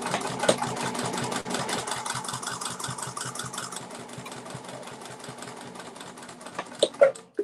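An industrial sewing machine stitches a clutch wallet in a fast, even run of stitches, then slows and stops with a few sharp clicks and knocks at the end.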